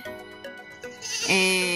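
A tethered goat on a farm lot bleats loudly and nasally near the end, a single drawn-out call rising over quieter bleats and faint background sounds.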